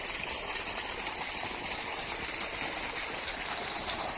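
Water rushes and splashes in a steady, continuous flow from a running motor pump irrigating a sugarcane field, a constant hissing wash with no pauses.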